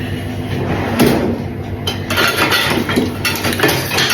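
A knife cuts through a fresh sourdough loaf with a crusty top, giving close, loud crunchy rasps in repeated sawing strokes, with short crackling bursts as the crust breaks.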